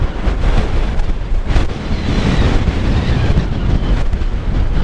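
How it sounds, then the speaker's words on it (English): Strong wind buffets a lavalier microphone on a coastal walk along the north coast of Cornwall, producing loud, continuous rumbling roar and gusty noise across the whole stretch with no talking. "got no idea what the wind is, but it's strong"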